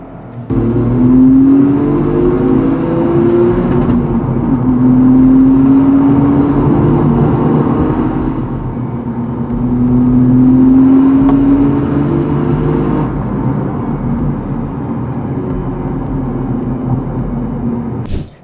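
A Toyota GR Corolla's engine revs up and down in several long sweeps, a deep throaty roar rising and falling close by, with no talking.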